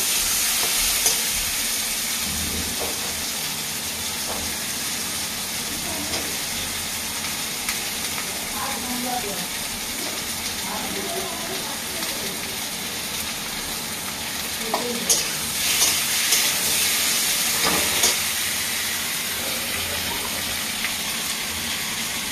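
Hilsa fish sizzles in a frying pan, a steady loud crackle with occasional clatters of stirring throughout.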